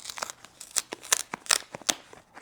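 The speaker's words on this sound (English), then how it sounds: "Opening up the envelope" A folded canvas-like game envelope is opened, producing a quick run of soft crinkling, rustling and fabric-snapping bursts, close and fairly quiet.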